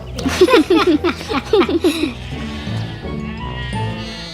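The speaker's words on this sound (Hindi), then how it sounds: "अरे सुनो गोपाल, तुम्हारी बकरी कैसी है?" A goat bleats in a rapid series of wavering cries, close and loud, then trails off into quieter background sounds.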